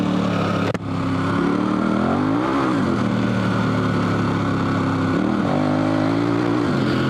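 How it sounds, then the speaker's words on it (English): A dual sport motorcycle on a knobby 50/50 adventure tire accelerates, the rear tire briefly breaking loose before gripping; a steady, loud engine drone rises and falls in pitch with revving, heard close without speech. "So it breaks loose initially and then catches and propels the bike forward."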